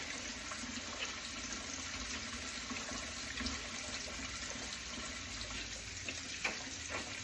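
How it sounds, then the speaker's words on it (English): Tap water runs steadily into a kitchen sink while hands are washed after handling raw pork, a constant close rushing stream with faint splashes and no talking. "I'm just going to wash my hands here in the sink because dealing with the raw pork."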